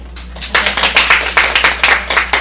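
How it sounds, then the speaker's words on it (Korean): Audience clapping at the close of a lecture on money, beginning sparse and swelling into a fairly loud, brisk burst of hands from a modest crowd over about two seconds. "참여하신 여러분 자신한테도 큰 박수 좀."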